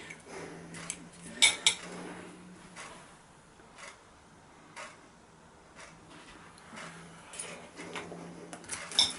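A knife and fork cut and scrape through a Christmas dinner pie with stuffing, sausage and pastry on a plate: faint, intermittent clinks and scrapes of metal on crockery, with a few sharper taps, close by in a quiet room.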